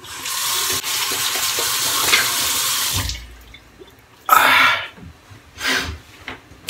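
Water from a tap runs loudly and steadily as a shaving razor is rinsed under it, then cuts off, followed by a few brief splashes and taps.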